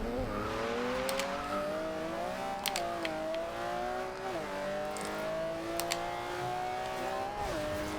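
A Maserati MC12 with a 6-liter V12 revs and shifts up through the gears in Forza Horizon 2, a loud, steady engine drone with climbing pitch and brief breaks at each gear change.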